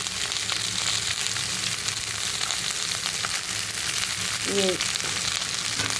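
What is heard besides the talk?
potato and green garlic sabzi frying on high heat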